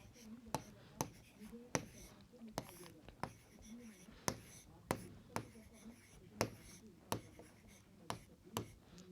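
Chalk tapping and scratching on a classroom board while prices in rupees are written during a Class 3 maths addition lesson, a steady series of sharp, close knocks and scrapes roughly every half second, with a teacher talking quietly underneath.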